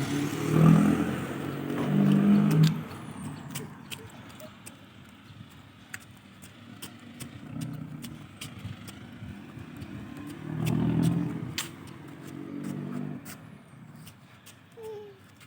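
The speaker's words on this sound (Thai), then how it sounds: "รถเข้ามาร้าน ยายเพชรแล้วเห็นปะ" A vehicle arrives at a roadside shop with a faint, distant engine rumble that swells and fades twice as it moves nearby, along with scattered light clicks and background ambience.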